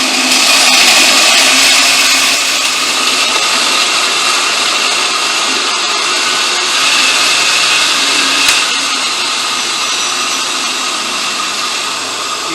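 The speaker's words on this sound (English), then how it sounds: "put your blender on the puree" A blender purees gazpacho on its puree setting, a loud steady whirring roar close by that holds for the whole stretch, with no talk.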